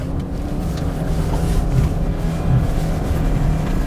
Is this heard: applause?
no